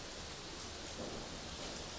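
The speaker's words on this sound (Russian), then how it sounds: "Сегодня дождливо." Rain falling outside a hotel balcony in Patong, Phuket, Thailand: a steady, faint hiss of rain on surfaces, continuous and even, with no voices.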